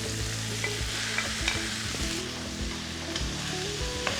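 Cooked noodles and vegetables stir-fry in a pan, a close, steady sizzle broken by repeated scraping and tossing knocks from a spatula, with no voices.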